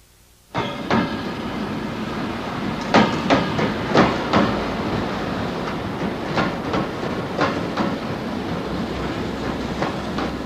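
A Tohoku Shinkansen train arrives at Ueno underground station, a steady rolling roar with repeated sharp clacks from the wheels over rail joints, close and continuous after a quiet start.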